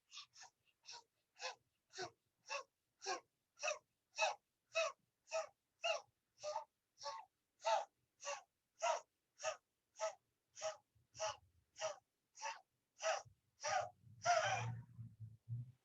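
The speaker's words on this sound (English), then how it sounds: "Now take tongue out inside and start breathing, mouth open through mouth." Rapid, evenly spaced open-mouth breaths during a yoga pranayama exercise, about two dozen sharp puffs in steady rhythm, close and clear against silence, ending with a low rumble.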